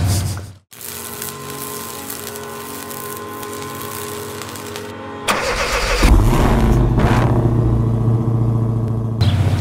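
Tuned Ford Raptor pickup engine starting and revving under gas pedal tests, loud and close, with an idle, a brief cut, then rising revs and a sustained, throaty roar.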